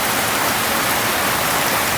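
Sudden heavy rain pours onto a yard, a dense, loud, unbroken hiss of falling water that holds steady throughout the short stretch, with no voices.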